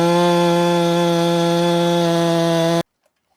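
A chainsaw cuts into the trunk of a giant cedar tree, giving a loud steady engine drone at a fixed pitch for almost three seconds before it cuts off abruptly into silence.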